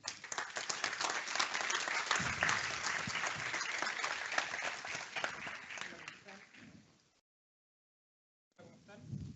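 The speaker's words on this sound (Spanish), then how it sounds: "el señor Agustín de la Cuesta, para quien pido un fuerte aplauso." Audience at an academic event on technical-professional education applauds to welcome a speaker to the stage, a long dense burst of clapping that fades out, then brief talk resumes after a gap of silence.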